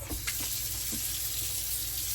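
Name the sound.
water running from kitchen sink tap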